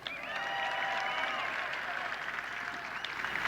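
Cheering and applause from a commencement crowd for a singer and band after the national anthem, a sustained wash of clapping and voices at moderate distance.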